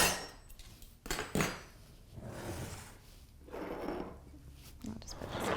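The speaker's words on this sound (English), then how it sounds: "I'm just gonna spoon out some of this vegetable mixture into our baking dish." Clinks and soft scrapes of a spoon moving vegetable mixture for a lentil bake into a baking dish, several close, irregular knocks and scoops against the dish with quiet gaps between them.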